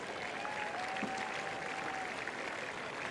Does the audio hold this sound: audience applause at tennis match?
yes